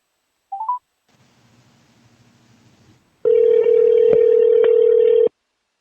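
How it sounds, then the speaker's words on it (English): Phone call being placed: a short chirp of keypad tones, a faint hiss, then a loud, steady dial tone droning alone for about two seconds. "Let me call you on the phone"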